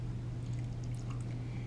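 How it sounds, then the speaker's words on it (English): Milk poured from a carton over smoothie ingredients in a blender jar, a short, steady liquid pour heard close up over a constant low hum. "So I usually pour the milk"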